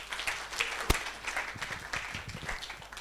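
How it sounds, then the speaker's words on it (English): An audience applauds during a live stream, a loose, moderate patter of clapping with one sharper clap standing out early, heard briefly with no talk. "Let's give her a round of applause once again."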